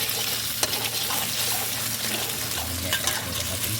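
Papaya and egg stir-fried in a hot pan, a steady sizzle with scraping and stirring noises, close and continuous, no voices.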